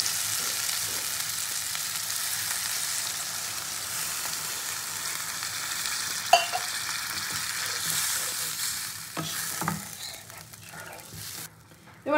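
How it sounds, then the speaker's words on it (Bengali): Spiced masala sizzles loudly in a pan as water is poured in for a rohu and capsicum fish curry, a continuous close hiss with a few stirring clinks and scrapes toward the end and no talking. "এবার পরিমাণ মতন জল দিয়ে দেবো"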